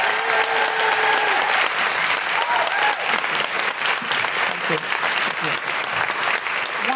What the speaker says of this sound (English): Big round of applause for Jaz O'Hara and Hiba.